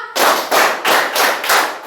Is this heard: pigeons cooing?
no